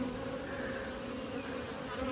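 A dense, steady hum of many honeybees buzzing close by on a hive frame, continuous and even.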